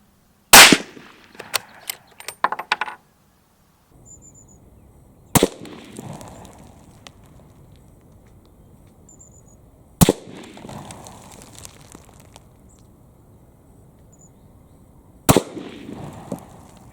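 Four loud, sharp rifle shots from a Ruger American Gen II, spaced about five seconds apart, each followed by a brief outdoor echo, with a few quieter clicks near the start.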